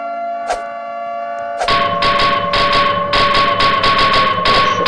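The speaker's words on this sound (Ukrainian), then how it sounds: "як тут вимкнути сирену?" A siren wails in a video game where a nuclear power plant is being destroyed, a steady sustained tone with a harsh, pulsing alarm layered over it that starts partway in and runs loud to the end.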